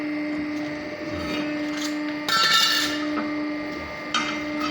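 An industrial cutting machine at an Antalya machinery workshop hums steadily while cutting a metal corner bracket, with a short harsh grinding burst midway and a smaller one near the end.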